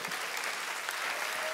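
A church congregation claps together in a short burst of steady, dense applause filling the room, with no voices rising above it.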